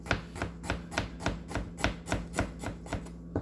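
A knife slices garlic on a cutting board in steady, evenly spaced chops, about a dozen crisp close strokes heard alone with no talking.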